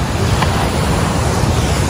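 Heavy surf roars continuously nearby, strong ocean waves crashing on a rocky shore, a dense wash of crashing water with wind buffeting the microphone.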